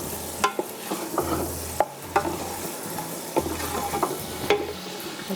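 Ginger garlic paste frying in a pan with oil while being stirred, a steady close sizzle broken by repeated scraping strokes of the spoon every second or so, with no talking.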